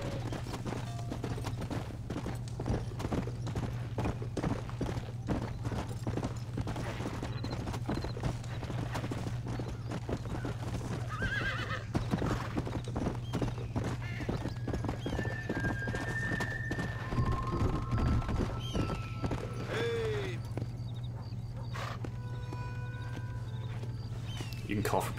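Horse hooves clip-clop at a steady walking rhythm in Red Dead Redemption, with occasional neighs and whinnies, while people talk over the game sounds.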